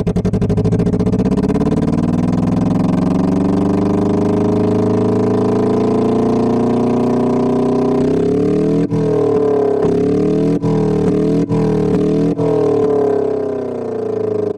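An inline-twin car engine in an engine simulator game idles steadily near 1200 rpm, then revs briefly in several quick rising bursts, loud and close, with a buzzy harmonic drone throughout.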